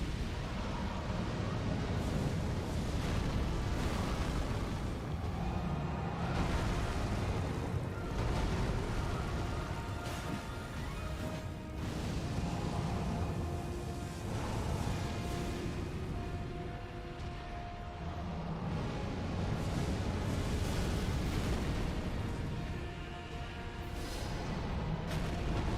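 A Fire Giant breathes fire in Elden Ring, a dense, continuous roaring rush like a blast of flame. It rumbles on and on with no breaks, and a few faint tonal game sounds sit under it.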